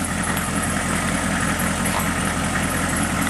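A 1996 Hummer with a 6.5-liter turbo diesel engine idles steadily nearby, a constant low rumble with a rough diesel clatter running through the whole stretch and no talking.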